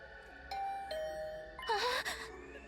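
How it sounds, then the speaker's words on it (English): A doorbell chimes in The Hundred Line: Last Defense Academy video game. Several clear tones ring out, then a brighter, louder chime sounds near the end over a soft background hum. "My heart did a somersault when my doorbell suddenly rang."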